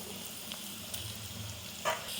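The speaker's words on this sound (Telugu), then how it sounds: "అల్లం వెల్లుల్లి పేస్ట్ పచ్చి వాసన పోయే వరకు ఫ్రై చేసుకోవాలి" Ginger garlic paste fries in a pan with a soft, steady sizzle close by, broken by a few faint clinks and one sharper scrape of stirring near the end.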